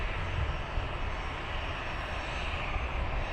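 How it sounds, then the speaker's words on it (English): A Ryanair airliner landing at Luton Airport produces a continuous, fairly distant jet roar that stays steady throughout without voices. "Ryanair is dropping in."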